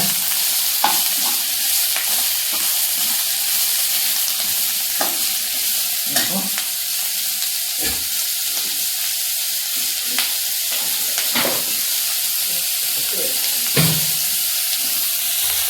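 Onions fry in a pan with spices and ginger garlic paste, a steady sizzle broken by repeated scraping strokes and taps of a spoon as the mixture is stirred, close and alone.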